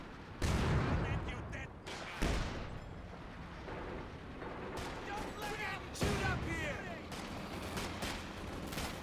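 An artillery barrage pounds away in Company of Heroes 2, a dense run of booming blasts and rattling gunfire spread across several seconds, with a caster talking over the battle.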